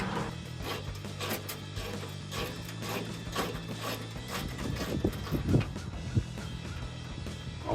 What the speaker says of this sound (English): There is a 10mm bolt that needs to be taken out of this side of the fender as well